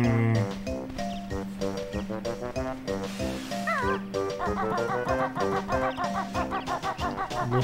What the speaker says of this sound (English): Listen to that bird.